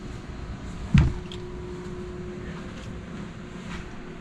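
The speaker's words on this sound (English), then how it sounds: "Got the generator running now. Same thing. You can hear it, but nice and quiet." Generator running aboard a 40-foot sailboat, a low, steady, quiet hum with a faint tonal whine, plus a single brief knock early on.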